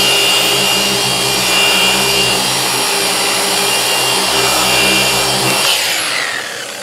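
A RUPES polisher runs steadily on car paint, a loud continuous whirring motor with broadband pad friction, holding even before winding down near the end, no talking.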